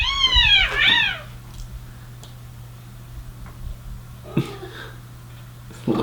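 A cat gives one loud, close meow at the start, followed by quieter rustling, a few clicks and a soft vocal sound over a steady low hum.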